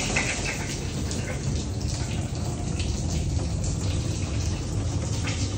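Water steadily rushing into a home heating tank, a continuous broadband flow sound at moderate level with no talk.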